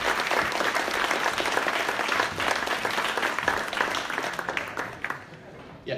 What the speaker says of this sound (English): So a big applause for everyone.